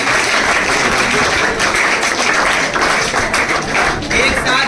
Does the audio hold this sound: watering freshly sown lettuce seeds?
no